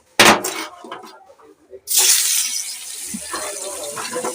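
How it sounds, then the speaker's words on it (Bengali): Fish frying in a pan of oil left over from frying pointed gourd, a loud burst of crackling and spitting as it goes in, then a steady hiss of sizzling that carries on to the end. "পটলের তেলে মাছটা ভাজতে দিয়ে দিয়েছি"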